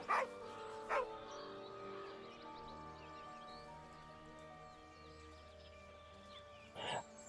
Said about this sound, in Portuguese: Ah, é um cachorro, não, lobinho.